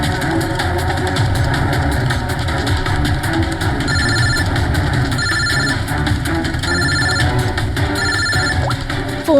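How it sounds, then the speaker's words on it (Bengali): A mobile phone rings in a repeated pattern of short electronic tone bursts, recurring about every one and a half seconds over a steady engine idle and road noise, as if inside a vehicle. "ফোন আসছে"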